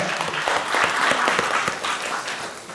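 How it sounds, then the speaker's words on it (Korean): A burst of enthusiastic clapping from a room full of people at a young adults' church service, dense and lively throughout, with a few louder individual claps standing out. "박수 한번 해주세요"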